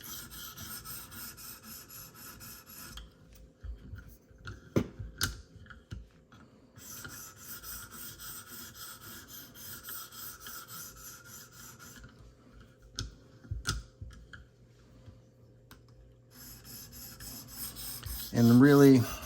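A Smith & Wesson Extreme Ops knife blade is drawn across a sharpener in repeated raspy strokes, steady bursts of gritty scraping separated by brief pauses and light taps, close and alone.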